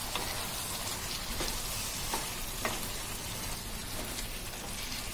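Chicken curry being stirred in a pan as coriander powder and roasted cumin powder are mixed in, giving a steady broadband sizzle with soft scraping stirs throughout, close and moderately loud, with no talking.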